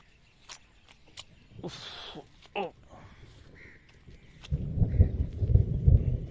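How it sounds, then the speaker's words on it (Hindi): Deep thunder rumbles loudly during rain beside rice paddies on a muddy rural path, building over the last two seconds after quieter moments with a few scattered crow caws. "बारिश, बादल अभी भी गरज रहे हैं"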